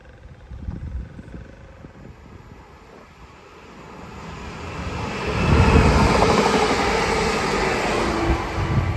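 An electric train on the West Coast Main Line at Levenshulme, Manchester, rumbles past with a rising roar that swells midway and stays loud, a broad mechanical rush with clattering low end.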